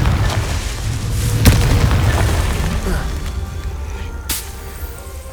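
In the video game Hogwarts Legacy, a Confringo fire spell bursts with a deep booming explosion, followed by a rumbling tail and a sharp pop near the end.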